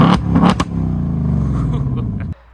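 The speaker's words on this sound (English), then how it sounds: "a quick demo on how the remote rev works on the 2024 Mustang GT." A 2024 Ford Mustang GT with active exhaust, revved by remote start to about 2000 RPM. A quick blip opens, then a deep, sustained engine drone holds close and loud for around two seconds before cutting off abruptly.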